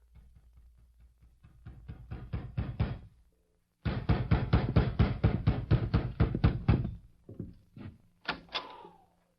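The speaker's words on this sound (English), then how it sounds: "It must have been about midnight when I heard a knock at the door." Rapid knuckle knocks on a door around midnight in an old radio drama, two long bursts of fast, even raps, loud and close, broken by a brief pause, then a few scattered knocks at the end.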